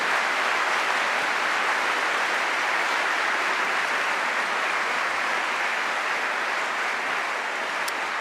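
A seated audience claps steadily for a panel of speakers at a public debate, dense and even applause that fills the room without a break for several seconds.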